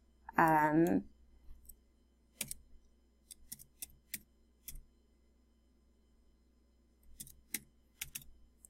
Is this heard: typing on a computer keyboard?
yes